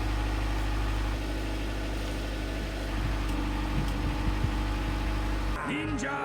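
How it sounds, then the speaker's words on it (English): Honda D15B7 car engine running steadily through a tune-up, a continuous mid-pitched drone with mild swells as it is revved, close and loud, with a brief shift in tone near the end. "see if smoke comes out when I rev it"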